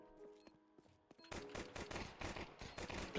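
Gunfire in Counter-Strike, a few scattered shots at first and then a rapid burst of repeated cracks, sharp and loud with no talk.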